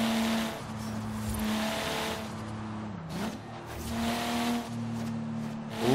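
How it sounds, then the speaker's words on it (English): Steady engine drone with harmonic whine, punctuated by sharp crackling backfire pops and a revving dip near the middle, loud and continuous, from a twin-turbo BMW M4 in the video game Forza Horizon 3. "Lots and lots of backfire."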